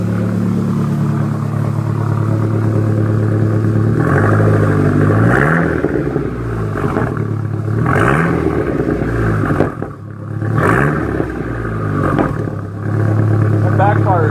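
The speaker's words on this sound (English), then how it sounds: "Rev that engine a little bit." A turbo van engine revs repeatedly in deep, rising surges, loud and close, with low rumbling pops between pulls and a voice talking over it.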